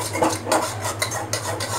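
Red pudding mixture stirred without pause in a pan, a close, continuous scraping swirl of a spoon against the metal base, with rhythmic strokes roughly every half second and no voices.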